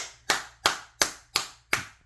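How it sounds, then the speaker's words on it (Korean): One person claps five times in an even, slow rhythm, each clap sharp and close, alone in a quiet room with a faint low hum behind. "이 박수 소리 듣는 것."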